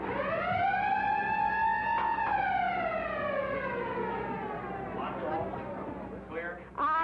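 A rising then slowly falling launch siren wail at the USS Mississippi submarine launch at Newport News Shipbuilding, loud and steady for several seconds, with voices and other noise emerging near the end.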